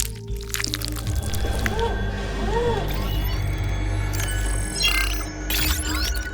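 Thick nano slime poured onto a rock gives a soft, wet, squelching flow that runs under a steady bed of background music, with brief brighter splashy bursts near the end.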